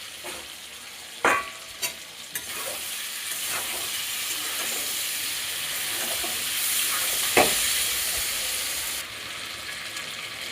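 Fried potatoes and chicken with cumin and coriander powder stir-fried in a pan, a continuous close sizzle with a few sharp spatula clinks and scrapes.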